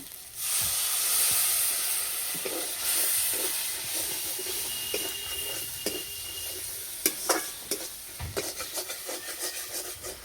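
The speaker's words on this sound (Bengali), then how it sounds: "মশলা কষানো হয়ে গেছে, যে মশলা থেকে তেল ছেড়ে গেছে।" Spice masala sizzles and hisses in hot oil for a chicken fry, with stirring scrapes and sharper crackles toward the end, steady and close with no voices.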